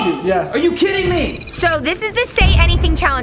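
A phone rings with a bright, repeated electronic trill partway through, heard under lively, overlapping talk close by.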